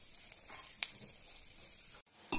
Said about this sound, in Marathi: तळत आहेत चांगले शेंगदाणे आणि फुटाणे, मिरची पण, लसूण, ओवा सगळं हे तळत आहे चांगले